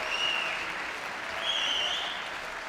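Crowd at a women's squash final, England versus Malaysia, applauds steadily after a rally, a dense, even wash of clapping filling the whole moment with no talk over it.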